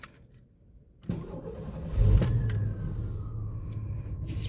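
A GMC Syclone truck engine starts up after a quiet moment, catching with a brief rev and then settling into a steady, close idle rumble with no talking.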